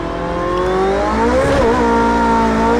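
A Porsche 918 spins its wheels in third gear in a racing game, the engine revving loudly and climbing in pitch with a brief dip and surge midway as grip breaks, close and alone.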